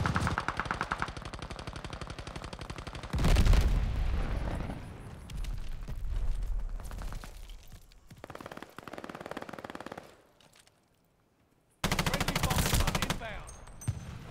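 Rapid automatic gunfire from a video game crackles in dense loud bursts, breaking off into quieter stretches and a brief silence before another burst resumes near the end.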